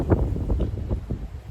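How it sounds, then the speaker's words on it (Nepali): Strong wind on an open hillside buffeting the microphone, a low rumbling roar in uneven gusts over a short stretch, no talk. "हावाले हुरीले झन्डै उडाएन"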